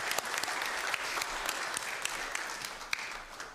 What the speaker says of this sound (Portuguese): uma salva de palmas para essa igreja